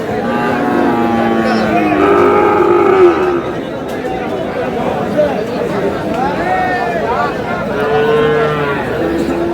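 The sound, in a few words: Sahiwal bull mooing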